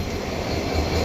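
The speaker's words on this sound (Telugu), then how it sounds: "2 డీజిల్ ఇంజన్లు అయితే పుల్ చేస్తాను" Two diesel locomotives pull a train into Kacheguda station with a steady, loud, low rumble and broad mechanical roar. There are no breaks or distinct clanks.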